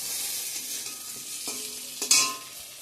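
Eggplant slices frying and being stirred in a pan at home, a steady sizzle with scraping stirs and a sharper clatter near the end, close and alone.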